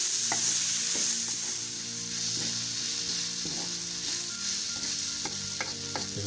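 Banana flower sautéing in a pan over a low flame, steady soft frying hiss with regular spoon strokes scraping and tapping against the pan roughly every half second, close and uninterrupted.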